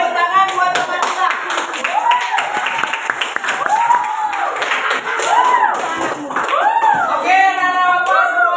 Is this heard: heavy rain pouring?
no